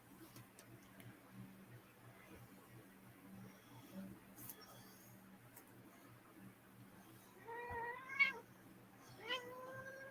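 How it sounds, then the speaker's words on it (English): Two short meows from a cat come near the end, faint and a second apart, after a long stretch of quiet background hum. "I hear the kitty cat."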